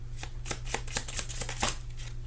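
A deck of tarot or oracle cards is shuffled by hand in a quiet room: rapid, close riffling flutters and soft slaps repeat in quick bursts, with a low steady hum underneath.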